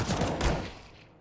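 Gunfire from the video game Counter-Strike, a dense, loud burst of close shots over about a second that then fades into a decaying reverberant tail.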